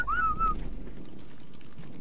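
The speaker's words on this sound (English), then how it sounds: "Did we just whistle them both at the same time?" Whistle command in Ark Survival Evolved gives a short rising then gliding whistle at the start, followed by a low rumble of game ambience and faint background noise.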